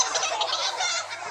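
A chicken gives a dense run of loud, close squawking, gobble-like clucks that continue without a break for about a second and a half, with no talking.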